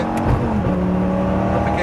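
Lamborghini Gallardo on a race track at full power, a loud steady engine drone with rising tonal whine, close and continuous throughout.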